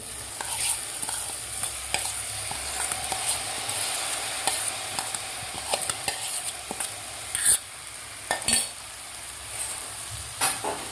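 Washed dal and rice are stirred and fried in spices in a pan for khichdi, giving a steady, close sizzle with scraping stir strokes and occasional clinks.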